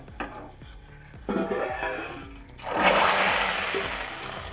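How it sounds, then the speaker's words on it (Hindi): Hot garlic tempering is poured into cooked kulath (horse gram) dal: a few metal clinks, then a loud hissing, splashing burst of sizzle that swells and keeps crackling to the end. "अब हम दाल को छौंक लेंगे।"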